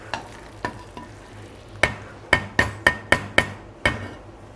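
A spoon clanks and scrapes against the bottom of a metal pot of lentil soup, a few sparse knocks followed by a quicker run of sharp metallic taps, close up.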